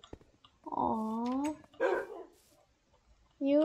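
Minecraft dogs bark and whimper in short tonal yelps, one long whine, a second cry, then another yelp at the end, clear and close with quiet gaps between.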